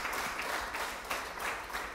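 Applause from an audience at a community gathering, a brief burst of dense, steady clapping at moderate distance, alone without talk.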